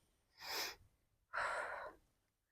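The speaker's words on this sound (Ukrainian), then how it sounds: "І весь час, коли піднімаємось, у нас видих." Two forceful breaths exhaled during an abdominal workout, each a short, close, breathy rush lasting about half a second, separated by a brief pause.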